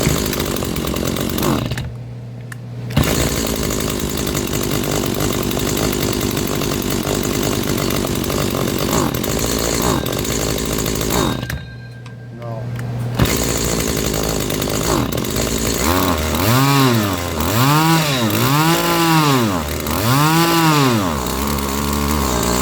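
A Stihl HT 70 pole saw engine that needs a new carburetor runs steadily and loudly close by, dropping briefly twice. Near the end it revs up and down in repeated rising and falling surges, alone with no talk.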